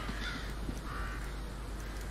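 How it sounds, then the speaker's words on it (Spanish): Crows caw twice in the Curse of Anabelle video game, short harsh calls rising over a quiet low ambient hum, heard at a moderate distance. "Cuervos, ok."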